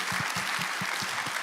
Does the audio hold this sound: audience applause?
yes